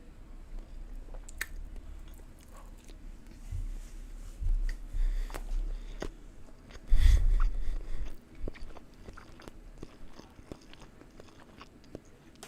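Chewing and crunching on a snack, close up, with soft irregular bites across the clip and one louder crunchy burst midway, no talk.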